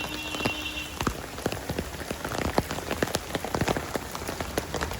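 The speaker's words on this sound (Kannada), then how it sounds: "ನೋಡಿದ್ರೆ ಯಾವ ರೇಂಜಿಗೆ ಮಳೆ ಬರ್ತಾಯಿದೆ ನೋಡಿ." Heavy rain pours down steadily near a parked car, a dense hiss of drops pattering on surfaces with sharp individual splats scattered throughout, continuous and fairly close with no one talking.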